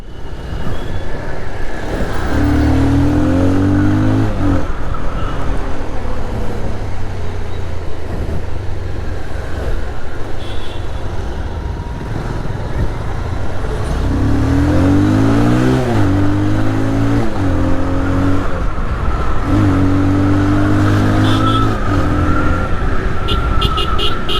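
A Bajaj Pulsar 220 motorcycle ridden through traffic, its engine loud and close, rising and falling with repeated revving as it accelerates among other vehicles.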